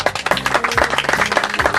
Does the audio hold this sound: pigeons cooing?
no